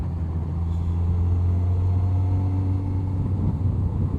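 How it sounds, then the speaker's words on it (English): A motorcycle on a curvy Texas ranch road throbs at a steady low rumble with a constant engine drone and wind noise as it slows for a curve. "Go downshift a little bit more, a little front brake."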